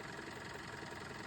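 A Mitsubishi L200 pickup engine with an intermittent fuel misfire runs at a steady, droning idle, heard close and continuous for a brief moment.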